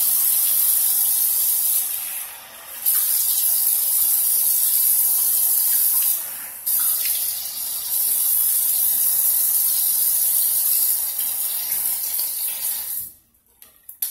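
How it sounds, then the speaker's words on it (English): Water sprays from a tap onto a freshly shaved head in a steady, loud hiss, briefly dipping twice as the flow is interrupted, then cutting off near the end. "Rinse off your head after you've shaved with the grain."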